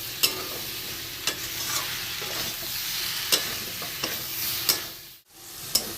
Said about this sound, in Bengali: এবার ভালো করে নেড়ে চেড়ে কষিয়ে নেব যাতে সবজিগুলোর ভেতরে মশলাগুলো ভালো করে মিক্সড হয়ে যায়